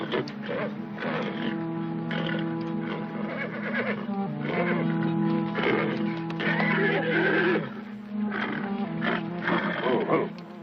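Horse in a classic western television drama whinnies and snorts repeatedly, agitated cries mixed with music and background sounds across the scene.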